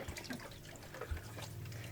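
Water sloshes and trickles steadily as laundry is rinsed by hand in a basin aboard a sailboat, a soft continuous splashing with small drips and gurgles, close and unaccompanied by talk.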